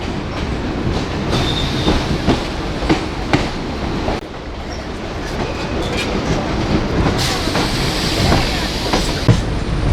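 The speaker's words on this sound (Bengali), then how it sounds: "ধীরে ধীরে ট্রেনটা সামনের দিকে এগিয়ে যাচ্ছে" A local train runs on the tracks between Sealdah and BBD Bag near New Alipur, with steady loud rumbling, rhythmic wheel clatter and occasional squeals, heard continuously from on board, with faint voices at times.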